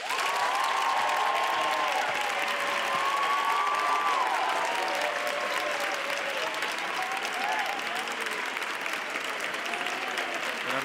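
Loud, sustained applause from a large television-special audience greeting a singer, steady and dense throughout, with cheering rising over the clapping.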